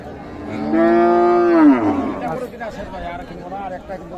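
A loud, drawn-out cow moo nearby at a cattle market, followed by the murmur of people talking in a busy outdoor setting.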